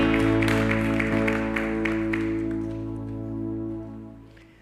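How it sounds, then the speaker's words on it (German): Congregation clapping during a church service, a brief burst of applause heard over sustained organ or keyboard chords that fade out at the end. "Gebt einen großen Applaus."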